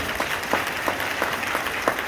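Brief, steady applause from a small crowd, a patter of clapping hands with no talking.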